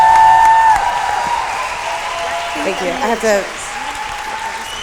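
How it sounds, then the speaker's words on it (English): An audience at a women's startup rally applauds a speaker, a steady wash of clapping that fades under a voice talking close by. "Give her a round of applause, everybody"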